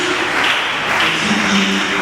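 A church congregation claps steadily for Jesus in Angola, a dense, continuous wash of many hands with no voices over it.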